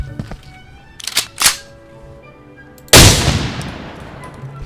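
Shots from a shotgun loaded with 12-gauge flechette rounds in the game Operator: two quick nearby blasts, then after a pause a much louder, close report that rings and decays slowly.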